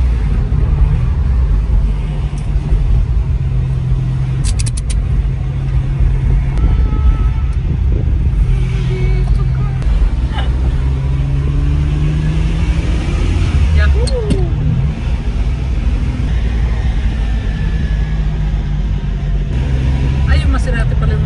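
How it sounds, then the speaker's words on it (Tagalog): A loud Maserati engine rumbles steadily nearby in traffic in Monaco, a continuous low drone heard from inside a vehicle, with people talking over it. "Maserati pala yung maingay no"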